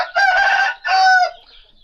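A green-faced rooster crows up close, one loud, strained two-part call lasting under two seconds that trails off at the end.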